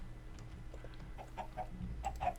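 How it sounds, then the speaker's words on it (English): Chickens clucking in a cake-factory building video game, a few soft, scattered clucks at low level over a faint rumbling background. "And there's some more chickens."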